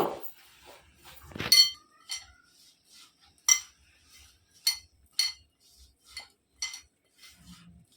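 Spoon clinking against a bowl while mixing rice flour, salt and sugar into a dry pitha batter, with sharp metallic taps spaced irregularly and mostly quiet in between.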